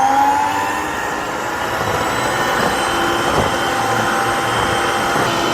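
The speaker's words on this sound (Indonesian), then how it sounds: "Kita kocok, bisa pakai tangan atau pakai mixer" An electric mixer beats butter and powdered sugar for streusel bread dough, giving a steady motor whine that holds close and loud through the whole stretch with no talking.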